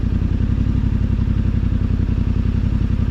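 A Hemi-engined vehicle ploughs through soft beach sand on a long coastal track, its engine a loud, steady, throbbing low drone with a faint rhythmic pulse that holds throughout.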